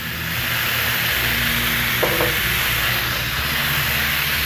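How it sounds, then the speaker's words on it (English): Hamburger meat and onions sizzle loudly and steadily on a Blackstone griddle, a dense continuous frying hiss with a brief scrape partway through. "Let's throw down the hamburger meat. Throw them onions in there with it."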